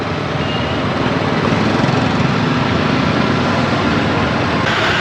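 A rented boat's outboard motor runs continuously up close, a loud steady buzzing drone with no pauses and no voices.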